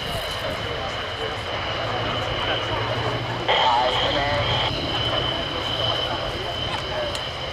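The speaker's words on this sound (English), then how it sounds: "Both these aircraft are being flown by ex-air cadets" A Spitfire and a Hurricane of the RAF Battle of Britain Memorial Flight fly at the Royal International Air Tattoo 2016, their engines a steady, distant drone that swells slightly, under a commentator's voice.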